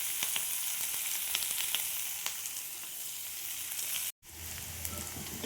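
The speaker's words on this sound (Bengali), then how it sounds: "এই পেঁয়াজগুলো আমি ভেজে নেব।" Two onions frying in oil in a pan, a dense continuous sizzle with occasional crackles, close and steady, briefly cut off near the end before resuming, no speech.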